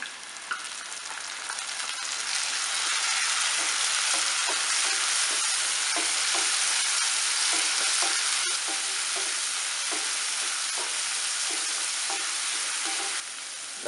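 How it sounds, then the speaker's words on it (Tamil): Chopped onions and tomatoes fry in hot oil in a pan for a South Indian eggplant kuzhambu. A loud, steady sizzle runs throughout, broken by repeated scraping stirs, with no talking. "இப்போ வெங்காயம் கொஞ்சம் நல்லா வதங்கிடுச்சு தக்காளியை போட்டுக்கலாம்"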